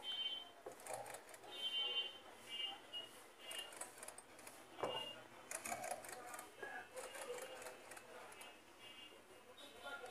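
A freshly oiled and repaired sewing machine, once noisy, runs quietly with light mechanical clicking and ticking, mixed with a person talking nearby.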